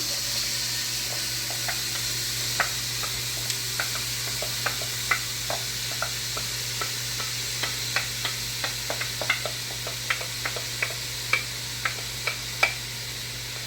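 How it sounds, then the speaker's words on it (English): Bell pepper and onion frying in extra virgin olive oil over medium-high heat, with scattered crackles and pops and the occasional stir over a steady low hum, heard alone at moderate volume. "I'm going to go ahead and get my pepper and onion going."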